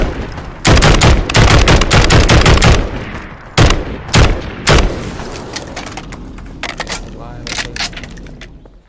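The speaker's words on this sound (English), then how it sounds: "I accidentally shot at the ground when you reload." Rapid bursts of gunfire from a Garry's Mod game, an opening volley of fast repeated shots followed by a few louder separate single shots, with voices talking in the background.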